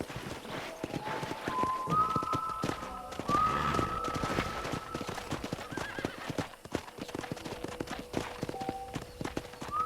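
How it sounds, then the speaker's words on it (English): Hooves clip-clop steadily on a ranch while a horse neighs a few times in the video game Red Dead Redemption on Xbox 360, set against a busy background with faint tonal sounds. "let's see if you can still ride a horse"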